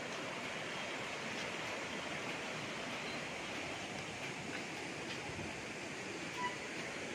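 A clean river in rural Majayjay, Laguna flows as a steady broadband rush of moving water, continuous and fairly close, with no talk.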